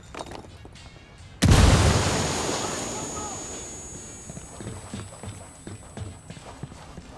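A grenade goes off in Ghost Recon Wildlands with one sudden, loud, close boom, then a long rumbling decay that fades over several seconds under faint ambient game sound.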